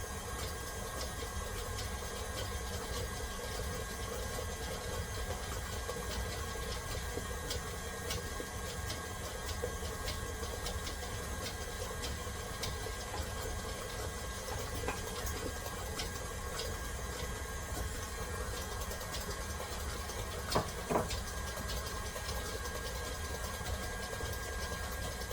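An electric hand mixer beats lemon blueberry pound cake batter in a steady, continuous whir, one brief clatter near the end, with no talk.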